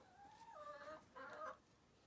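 Chickens at a backyard coop give two short bursts of clucking, soft and slightly distant, with quiet pauses around them.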